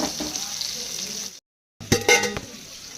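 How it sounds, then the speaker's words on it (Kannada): Fish frying in a pan gives a steady close sizzle, which breaks off briefly and returns with clinks of a utensil against the pan. "ನಾನು ಈಗ ಮೀನ ಕರಿಯಾಕತ್ತೀನಿ"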